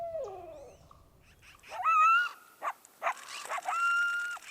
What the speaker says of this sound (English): Some coyotes in the distance.